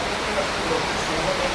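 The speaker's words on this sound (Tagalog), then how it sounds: "lumakas yung ulan talaga dito" Heavy rain pouring steadily in Taipei, Taiwan, a dense continuous hiss of downpour close around, with no break across the short stretch.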